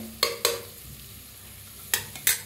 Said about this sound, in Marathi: तर बघा कडधान्य कसं सगळं छान असं भाजलेलं आहे बघू शकताय तुम्ही